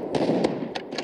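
Grenade blasts in the video game Bullet Force: several short, sharp bursts go off over a dense, steady roar of in-game battle noise, with one blast near the middle and two more close together toward the end.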